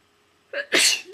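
A single sharp sneeze, close and loud, with a short intake of breath before the burst.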